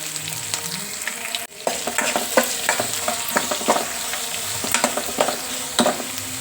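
Onion and dried red chillies fry in oil in a pan for a Kannada-style tondekayi (ivy gourd) palya, giving a steady close sizzle broken by repeated stirring clinks and scrapes, with a brief drop partway through.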